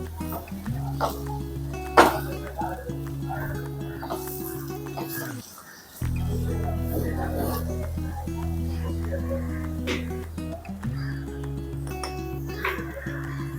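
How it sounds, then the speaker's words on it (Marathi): Vegetables and onion being stirred and sautéed in a spiced oil tempering in a pot for a Kerala-style coconut milk vegetable stew, with a steady low sizzle, occasional utensil clinks, and a brief drop in the middle. "आणि आता हे फोडणीमध्ये छान असं परतून घेऊया या सगळ्या भाज्या आणि कांदा वगैरे सगळं"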